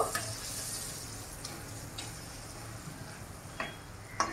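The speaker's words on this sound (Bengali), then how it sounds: "একটা সাইড ভাজা হচ্ছে, আমি এটাকে আবার উল্টে দিলাম এই সাইডটা ভাজা হওয়ার জন্য।" Chicken pieces fry in oil in a pan with a soft, steady sizzle, broken by a few faint clicks as they are turned.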